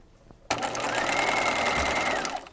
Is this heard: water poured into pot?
no